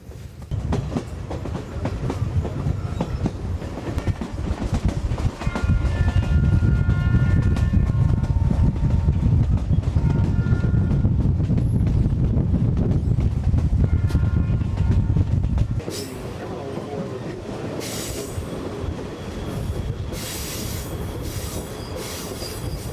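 The North Coast Limited passenger train rolls through western Montana, recorded from an open vestibule door window: a steady loud rumble of wheels on rail with squealing flange tones, then a thinner, brighter clatter in the final stretch.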